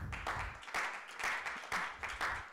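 Audience applause at a live comedy-style event, a steady patter of clapping from a modest crowd with rhythmic swells, heard alone without speech.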